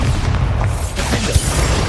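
A Bombarda spell blast in Hogwarts Legacy, a loud, dense booming burst with heavy low rumble that fills the whole moment, with a sharper pop near the end.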